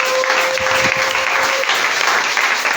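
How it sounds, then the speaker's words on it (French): A church congregation applauds in a steady, full round of clapping that holds at an even level throughout, with a faint tone and a few low thumps early on. "Voilà bien les applaudissements."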